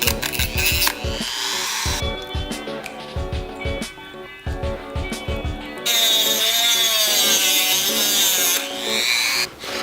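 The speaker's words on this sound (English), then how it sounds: "I had to Dremel these down quite a bit to get the head gasket, the line to match up with the threads" A Dremel rotary tool grinds down a metal head gasket for a KA24DE engine rebuild, whining in repeated high-pitched bursts that rise and fall as it bites the metal, loud and close, with no talk.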